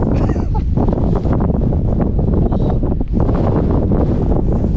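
Strong gusts on top of Kinder Scout buffet the microphone in a loud, continuous roar with rustling bursts, harsh and close throughout.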